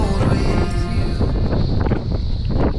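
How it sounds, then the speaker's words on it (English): Strong wind buffets the microphone outdoors at a scenic lookout across a valley in the Blue Mountains near Sydney, a loud continuous rumble with gusts and faint background sounds. "Sorry about the wind."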